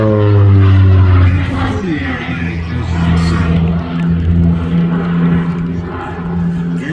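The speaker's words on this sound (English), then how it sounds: "hear the sound of those turbo props now, those twin Garretts" Twin Garrett turboprop engines on an aircraft flying at an air display give off a loud, steady, droning roar with a strong low hum. The sound holds almost constant throughout, and no one speaks.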